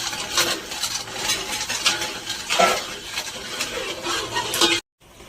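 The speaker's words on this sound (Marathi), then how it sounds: "हे याच्यात आता मिक्स करायचे आपण आता पाक येईपर्यंत हलवत राहायचं आहे" Chopped dry fruits stirred into bubbling sugar syrup for dink laddoos, a spoon scraping and clinking against the pan in a steady rhythm with a soft sizzle beneath, cut off abruptly at the end.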